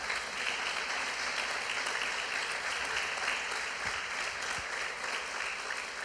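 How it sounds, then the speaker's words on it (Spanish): Sustained applause fills a church service, a steady wash of clapping from a congregation lasting throughout, moderately distant and without talk over it. "Démosle un aplauso al Señor."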